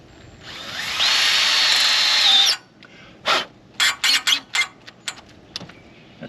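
A power drill with a Phillips bit whirs for about two seconds, then several short, sharp bursts follow as screws are driven in quick succession.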